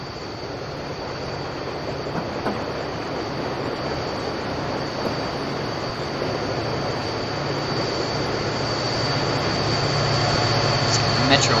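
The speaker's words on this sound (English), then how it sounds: "This metro train that came here earlier is on the move." Metro 101 commuter train in Train Simulator 2016 gets moving at Naperville, Illinois, after the crossing gates drop, heard as a steady broadband rolling rumble that slowly builds, with a faint high whine throughout.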